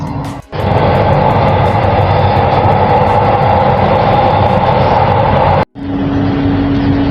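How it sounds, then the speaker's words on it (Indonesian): Steady rumble and roar of an LRT Jabodebek commuter train riding between Harjamukti and Dukuh Atas, continuous loud cabin and track noise with a brief dropout near the end, then a steady hum. "beginilah suasana kalau kita naik LRT Harjamukti menuju ke Dukuh Atas"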